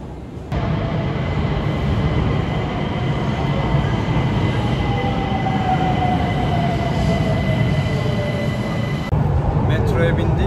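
Metro train ride in Mashhad, Iran, heard from inside the car: a loud steady rumble of wheels on track with a rising squeal as the train runs, cabin noise throughout.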